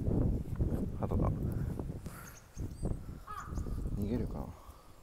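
Crows cawing outdoors, several harsh caws in quick bursts mixed with rustling and background noise, while a person talks quietly nearby.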